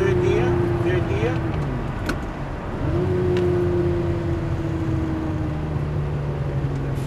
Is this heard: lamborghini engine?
yes